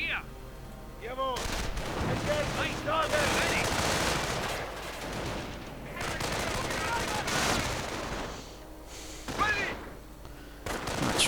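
Rapid automatic gunfire from flak Panzer vehicles in a World War II real-time strategy battle, bursts of fire and chattering shots over a dense, loud battle backdrop, with a commentator talking over it.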